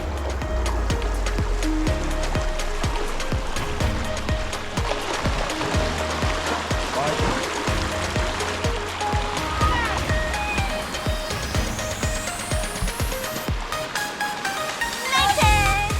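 Freshwater creek at Big Crystal Creek in far north Queensland, with people sliding down rock into deep pools; continuous rushing, splashing water fills the whole stretch, with voices talking over it.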